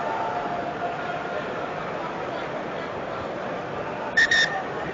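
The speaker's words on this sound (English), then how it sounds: "I blew my whistle." A referee's whistle during an England versus Australia rugby match sounds two short, sharp blasts near the end, cutting through a steady crowd roar.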